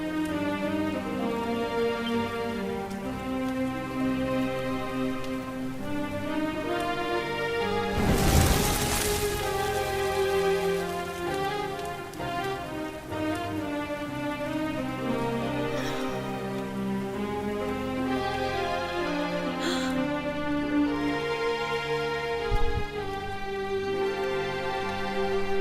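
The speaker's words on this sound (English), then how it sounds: "Looks like the rain's dying down." Steady rain falls in the Dragon Quest 11 video game, a soft continuous patter sitting under a sustained musical score, with one brief louder swell near the middle and no speech.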